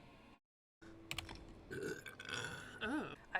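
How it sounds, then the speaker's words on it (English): A person burps close to the mic: a short croaking belch with sliding pitch toward the end, preceded by a brief silence and faint keyboard clicks. "I apologize for burping like a sim."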